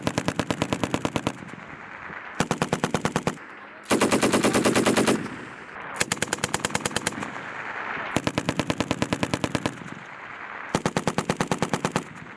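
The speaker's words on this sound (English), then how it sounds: "We also practice rolling guns, which is another method of engagement we use to employ machine guns to support our maneuver elements." An M240 machine gun fires at a range in six rapid bursts, each a loud, close, rattling string of shots with short pauses between, during infantry drill with rolling-gun fire.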